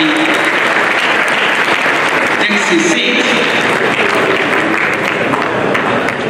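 Sustained, loud applause from the audience at a convocation lecture, a dense wash of clapping for the chairman, with a voice speaking briefly over it.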